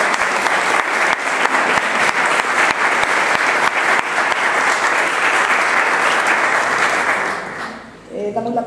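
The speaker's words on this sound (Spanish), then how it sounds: "Y un fuerte aplauso" A strong round of audience applause fills the hall at a journalism conference in Marbella, loud and continuous for about seven seconds before tapering off as a voice begins speaking.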